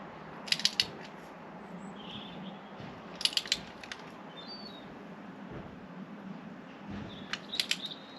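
A ratchet tightens a spark plug on a Volvo XC40, giving three short bursts of quick, crisp clicks, near and fairly loud, spaced apart over a low steady background hum.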